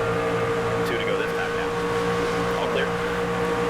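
Race car engine in the NASCAR 25 video game lapping Kansas Speedway, a steady, continuous harmonic drone that holds evenly throughout with no breaks.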